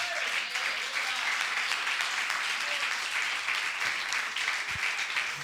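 A church congregation applauding, a steady wash of many hands clapping at moderate loudness, with faint voices mixed underneath.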